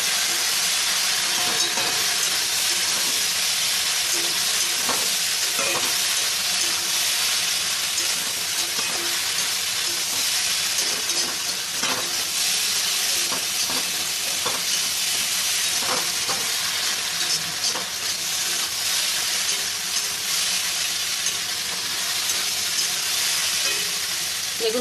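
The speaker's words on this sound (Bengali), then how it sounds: "এবার এটাকে ভালো করে নেড়ে দিতে হবে।" Okra frying in a pan on a medium gas flame gives a loud, steady sizzle throughout, broken by faint scrapes and clicks as it is stirred.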